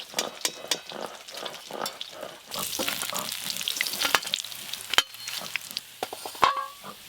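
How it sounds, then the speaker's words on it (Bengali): Pieces of silver carp fry together in hot oil in a village kitchen, crackling and sizzling loudly up close, with intermittent sharp spatters and the clatter of a utensil. "এই মাছগুলো একসঙ্গেই সব একবারে ভেজে নেব।"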